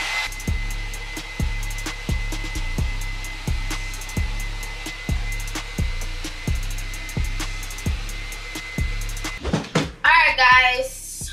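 A hair dryer blows steadily on mannequin hair, a loud close whoosh broken by regular clicks or knocks about every second, then handling noise and a short burst of talk at the end.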